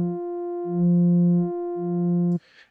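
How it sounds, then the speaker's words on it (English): A bass synth tone from an Ableton Max for Live bass pack with its sub oscillator engaged: a sustained buzzy, harmonic drone under three pulsing deep sub-bass swells, then a sudden cutoff into faint noise. "And we also have a sub oscillator."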